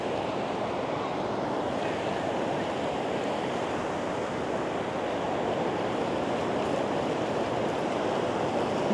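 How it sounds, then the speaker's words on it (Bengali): Sea waves break at Inani Beach in Cox's Bazar, a loud, unbroken roar of surf with wind buffeting the microphone and no voices. "আমার ঢেউর শব্দটা বেশ ভালো লাগে"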